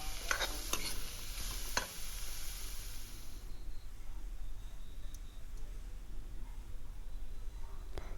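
Carrot and cabbage being stirred in a pan for veg momo filling, a soft scraping and sizzle with a few utensil taps at the start, then a quieter steady fry.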